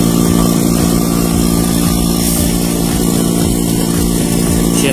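A vacuum pump runs continuously while evacuating the air-conditioning system of a 2018 Chevrolet Tahoe, a loud steady motor hum with no pauses or talk.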